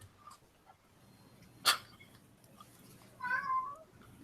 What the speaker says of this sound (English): Freaking cat. Yeah, he's going crazy.